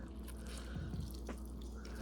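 Liquid squeezed by hand from salted shredded cabbage for sauerkraut drips and trickles steadily in the foreground, with a few brief splashy accents over a continuous wet background.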